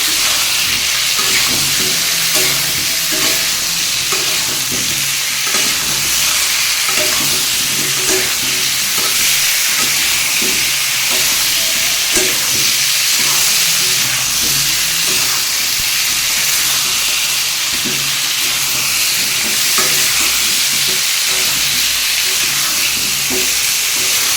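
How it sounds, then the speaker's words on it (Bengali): Pumpkin chunks with turmeric and salt frying in a pan for a vegetarian pumpkin and dal dish, giving a steady, loud sizzle and hiss with scraping stirs throughout. "কুমড়োটাকে ভালো করে ভাজা ভাজা করে নেবো"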